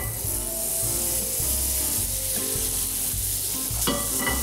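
Butter foams and sizzles in a hot frying pan for cooking branzino, a steady close crackling hiss that runs unbroken and grows a little louder near the end, with faint scraping now and then.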